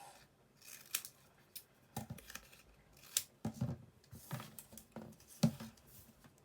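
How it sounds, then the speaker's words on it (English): Scissors cut through corrugated cardboard for a Mother's Day card, making a series of close, crisp snips and crunches in uneven bursts with short gaps between cuts, and no voices. "So consider that when you're cutting your corrugated cardboard"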